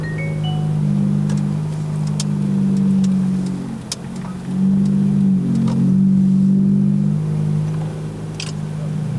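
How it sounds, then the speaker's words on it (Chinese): A 2009 Honda City 1.5E sedan drones steadily from inside the cabin as it accelerates, the engine tone dipping briefly at a gear shift before pulling again, with faint speech over it. "所以会有换挡的这种声音，有没有？"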